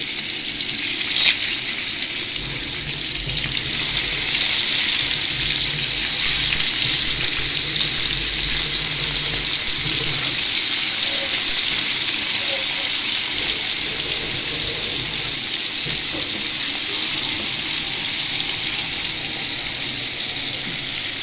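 Fish rubbed with salt and turmeric frying in hot oil, a loud, dense, steady sizzle with crackling that holds throughout, close up with no talking.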